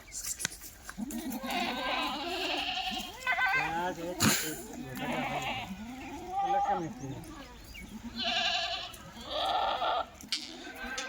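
Kathiawadi goats bleat repeatedly at close range on a farm, several overlapping wavering calls throughout, while someone talks between and over them.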